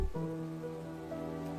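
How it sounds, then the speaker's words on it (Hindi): Heavy rain pours steadily on a surface, a constant wash that stays alone through the whole moment with a sustained low tone beneath it. "इतनी तेज बारिश में कौन आएगा?"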